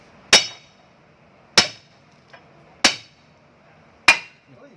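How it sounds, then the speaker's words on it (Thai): Four loud, sharp metallic hammer strikes, evenly spaced about a second apart, each ringing briefly, as parts are driven out while dismantling an SK200LC excavator outdoors. "ตอกกระแทกออกแล้วครับ"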